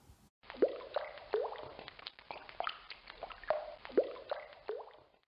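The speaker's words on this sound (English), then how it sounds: "Raindrops sound like this." Raindrops dripping one after another, clear plinking water drops with a slight pitch bend, falling in an irregular but steady rhythm close by, with no talking.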